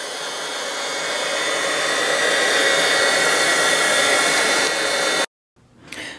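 A hair dryer blows a loud, steady whooshing stream for about five seconds and then cuts off abruptly, followed by a brief, fainter burst of air as it is switched on again.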